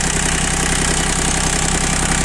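A Japanese four-wheel-drive mini tractor's small diesel engine idles steadily up close, its low even chugging holding a constant rhythm with no voices.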